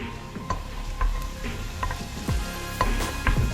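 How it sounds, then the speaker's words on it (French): Onions sweat in a pan for a tomato-basil sauce, with a steady, close sizzle and occasional scraping stir strokes of a utensil against the pan. No one speaks. "en attendant que nos oignons finissent de suer"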